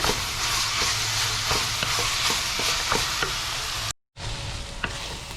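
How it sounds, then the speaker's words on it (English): Mutton keema for a Kashmiri-style fry sizzles steadily in a pan over a medium flame while a spatula stirs it in rhythmic scraping strokes, loud and close. A brief dropout cuts the sound before the frying resumes. "give it a good mix and continuously stir it on medium flame"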